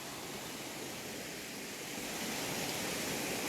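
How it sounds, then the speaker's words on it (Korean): Water in a mountain valley stream rushes continuously, a close, broad and steady hiss that swells slightly toward the end. "너무 시원하게 계곡 물소리 들으시면서"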